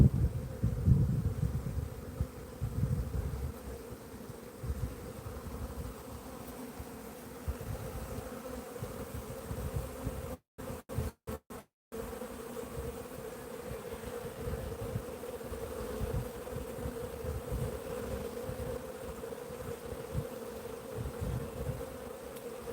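Bees buzzing during swarm season in northwestern Pennsylvania, a continuous droning hum of many insects close by, steady throughout with a brief dropout partway through.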